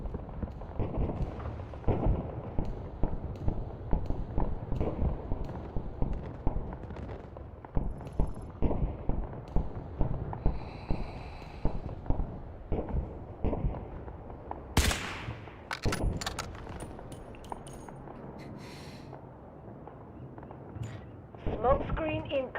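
Artillery barrage in the shooter game Delta Force, a rapid run of booming explosions and gunfire cracks rolling through the first half, then scattered shots and impacts, with people talking over it.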